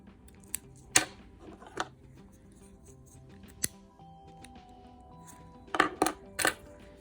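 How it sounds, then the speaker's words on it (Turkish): Scissors snipping needle lace thread, a few small sharp clicks scattered over quiet background with a faint low hum, a couple of quick snips near the end. "Şimdi şu ipimi kesip yakıyorum."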